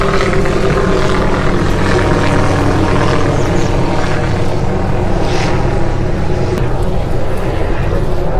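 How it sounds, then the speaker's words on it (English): A constant, loud rotor drone fills the air, a tour helicopter holding steady overhead at Niagara Falls, Canada, without letting up, with no voices. "Busy today too, those helicopter tours."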